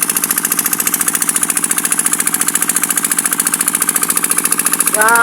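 A small water pump engine runs steadily nearby with a rapid, regular chugging pulse, loud and continuous throughout.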